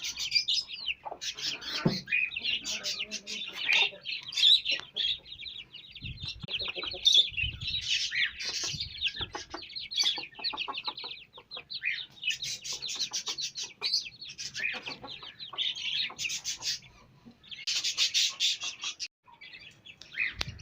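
Hens and their small chicks fill the scene with soft clucking and a constant stream of high, thin peeping, busy and close for the entire stretch, with no one talking.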